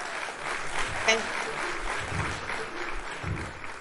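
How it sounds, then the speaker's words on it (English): A seminar audience gives a round of applause for program staff, a soft, fairly steady patter of clapping heard at moderate distance in a room, with a faint voice briefly over it. "Can I please get a round of applause for these women?"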